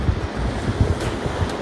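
Sea waves wash steadily onto a beach at Dhanushkodi, a continuous rushing surf mixed with gusty wind noise on the microphone, moderately loud and with no one speaking.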